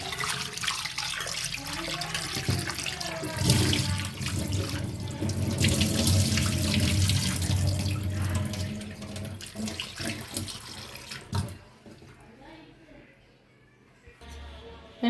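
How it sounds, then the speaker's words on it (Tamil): Half a kilo of mutton is rinsed under a running tap in a sink for biryani, with steady gushing and splashing water for about eleven seconds before it stops and quieter handling sounds follow. "அதை கழுவி க்ளீன் பண்ணி எடுத்துக்குவோம்."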